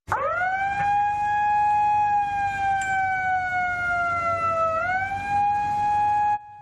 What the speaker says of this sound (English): At exactly 11 a.m., a siren was blown to mark the day.